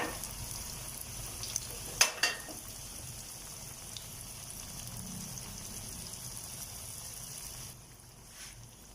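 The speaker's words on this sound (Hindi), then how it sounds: "ऑयल हमारा गर्म हो गया, तब हम इसमें समोसे फ्राई करेंगे।" Chicken samosas deep-frying in a pan of hot oil, giving a steady, even sizzle and bubbling throughout, with a couple of brief clinks near the start and the frying growing quieter toward the end.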